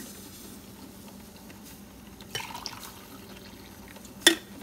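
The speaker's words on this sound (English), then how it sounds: "Let's brew some coffee." A coffee maker brews after being run through a dishwasher, giving a faint steady gurgle and bubbling of hot water with a few soft drips and one brief sharper clink near the end.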